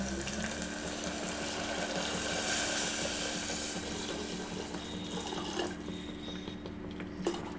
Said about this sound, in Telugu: అలా ఎసరు పోసుకున్న తర్వాత